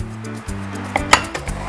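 Flour, breadcrumbs and parmesan being mixed in a bowl for chicken piccata breading, with light clinks of a utensil against the bowl and a few sharper taps over a soft kitchen background.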